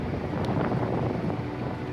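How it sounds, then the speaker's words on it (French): Violent Mistral wind gusting over the Var countryside during a wildfire, a loud continuous rushing roar battering the microphone with no voices. "Le vent, c'est le Mistral."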